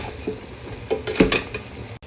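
Pumpkin sautéing in butter in a pan, with a steady soft sizzle broken by a few scraping stirs of a spoon against the pan.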